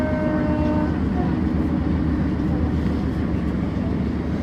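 Steady, loud rumble of a moving passenger train between Hartlepool and Newcastle, heard from inside the carriage as continuous wheel and track noise without pauses.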